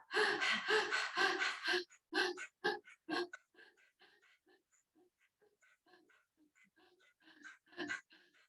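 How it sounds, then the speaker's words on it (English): Rapid, forceful panting breaths of a Swan (panting dog) pranayam breathing exercise, a loud rhythmic burst of quick exhales for about two seconds, then slower gasping breaths trailing off and a final short burst of panting. "Swan, that is dog, pranayam, panting dog pranayam. Literally copying the dog."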